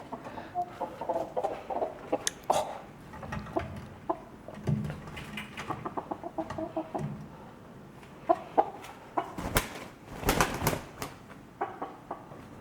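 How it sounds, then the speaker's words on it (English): Small backyard chickens cluck and chatter close by in irregular bursts, with rustling and a few sharp knocks mixed in, fairly quiet overall. "Gotta say goodbye to the little chickies."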